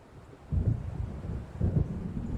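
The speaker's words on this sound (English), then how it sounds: "It seems there's a storm coming." Rumbling thunder of an approaching storm in the video game Alan Wake, two low rolling bursts over a steady windy, watery background, moderately loud with no talk.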